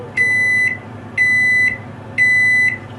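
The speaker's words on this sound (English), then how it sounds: "when the microwave is done, the oven is done" A microwave oven signals that its cooking is done with three clear, evenly spaced electronic beeps, each about half a second long, against a low background hum with no talking.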